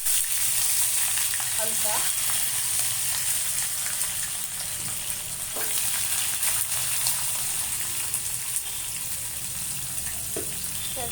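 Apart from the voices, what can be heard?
frying paneer, capsicum and onion in oil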